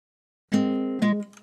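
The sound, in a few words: guitar loop second chord played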